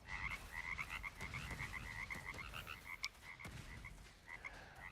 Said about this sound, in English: you can yeet frogs at people